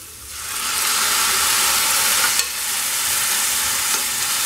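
Tomato drops into frying onions and a loud, steady sizzle swells and holds, with a brief spatter or stir partway through, close and with no talk.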